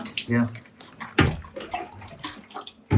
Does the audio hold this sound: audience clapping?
no